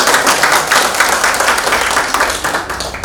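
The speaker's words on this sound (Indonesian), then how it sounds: "Baik, kita beri aplaus." An audience at a school assessment ceremony in a vocational high school applauding, dense continuous clapping from many hands throughout, loud and steady with no talk over it.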